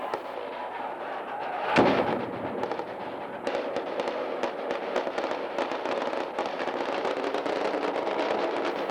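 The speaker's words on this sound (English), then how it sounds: "Captain Hamlet Tadevosyan of the interior troops is wounded by a hand grenade that goes off near the Russian embassy" A hand grenade goes off near the Russian embassy in Armenia with one loud close blast, followed by continuous crackling outdoor crowd commotion and scattered bangs.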